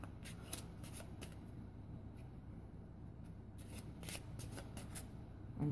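A deck of cards is riffled and shuffled by hand for a card reading, in quick repeated bursts of close, soft flapping and fluttering, quiet and alone with no talk.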